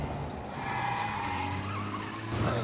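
Car tires squealing and skidding in Mafia: Definitive Edition, a sustained screech over a rumbling engine, with a louder burst at the end.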